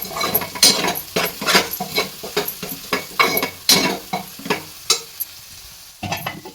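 Homemade Konkani masala being stirred into prawns in a pan, with brisk scraping and clattering strokes in an uneven rhythm over a faint sizzle, close and fairly loud, no talking.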